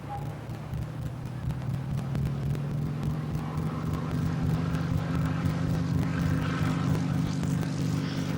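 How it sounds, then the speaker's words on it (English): A Percival Piston Provost RAF basic trainer takes off at Farnborough International, its Alvis Leonidas radial engine droning steadily at a distance under a continuous rumble, with a voice talking over it. "The melodious note of its Alvis Leonidas engine accompanies a leisurely takeoff."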